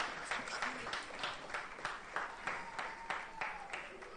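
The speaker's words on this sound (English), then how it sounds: "give them another round of applause" Applause from a graduation audience at a secondary school ceremony, a steady crowd clapping at moderate distance with voices mixed in and no clear break.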